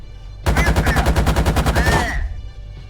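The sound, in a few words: BMP-2 30mm autocannon firing at targets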